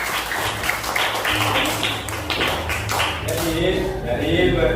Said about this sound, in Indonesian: Tepuk tangan untuk semuanya dulu